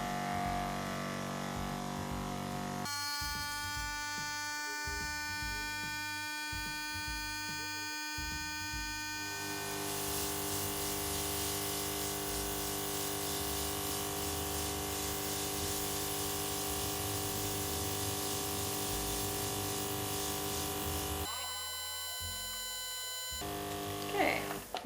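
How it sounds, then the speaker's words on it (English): An airbrush sprays watered-down red food coloring around a cake: a steady hiss of spray over the droning hum of the compressor, starting and stopping in long stretches. "I'm going to airbrush some red around the cake"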